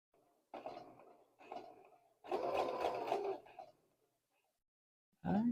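A sewing machine runs two rows of gathering stitches along a sleeve piece, in three short stitching bursts and then a longer steady run. It falls silent briefly before starting up again.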